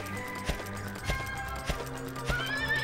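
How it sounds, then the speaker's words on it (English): A horse in the video game Dragon Quest VIII clip-clops with spaced hoofbeats and neighs, game sounds with music tones behind it, no voices. "My horse isn't accustomed to being ridden."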